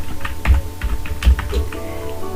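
Keys clatter on a computer keyboard in quick, uneven bursts of sharp clicks while HTML text-formatting tags are typed into a text editor, close and clear with no voices.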